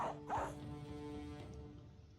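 Dogs in the video game Battle Brothers give a couple of quick, faint barks at the start, followed by a low whimpering tail over music in a combat scene.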